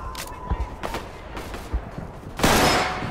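Gunfire in the Roblox game Centaura: scattered sharp shots and short bursts, then a loud sustained volley near the end, with no talk.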